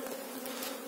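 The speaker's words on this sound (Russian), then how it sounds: "У меня в улье осталось очень много молодой пчелы." Honey bees buzz steadily in an opened hive of local bees during a colony merge before the nectar flow, a dense close drone holding without pause.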